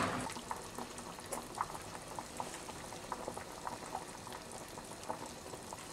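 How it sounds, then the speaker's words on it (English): A pot of water boils steadily for macaroni, with a dense bubbling hiss and scattered pops, close and continuous, with no voices. "My water is bubbling up"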